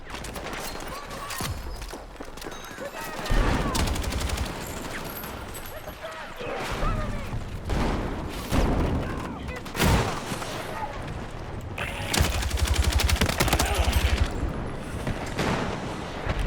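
Rapid gunfire and bursts of shots from a Battlefield 6 multiplayer squad firefight crackle repeatedly, with booms and explosions mixed in, under frequent voice chatter.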